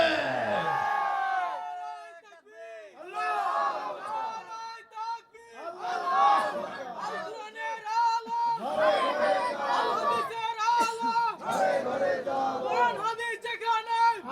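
A large crowd at a religious sermon shouts a response in unison, loud, sustained chanting voices rising and falling in waves, several long collective shouts one after another.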